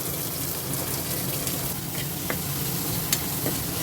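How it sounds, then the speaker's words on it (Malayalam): Onions sautéing in a hot pan for vegetable biryani give a steady, close sizzle with continuous frying crackle and occasional light stirring scrapes, no voices. "ഇത് നന്നായിട്ടൊന്ന് ചൂടായി വരുമ്പോൾ ഇതിലേക്ക് നമുക്ക് സവാള ചേർത്ത് നന്നായിട്ടൊന്ന് വഴറ്റിയെടുക്കാം."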